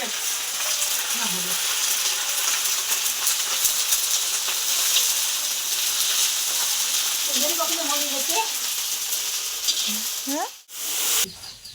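Dal being tempered in a pan, a steady loud sizzle and crackle of frying that runs continuously, then breaks off near the end as someone speaks.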